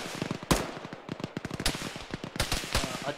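Rapid bullet gunfire in the military shooter game Arma, played with the ShackTac group: dense bursts of sharp cracks and pops, some close and loud, others fainter, rattling irregularly throughout.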